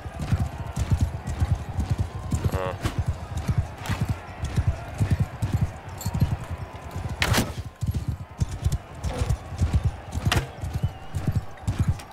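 Horses gallop across a medieval battlefield in Mount & Blade II: Bannerlord, with dense, rhythmic hoofbeats throughout, sharp impact cracks of combat breaking through, and a voice speaking briefly.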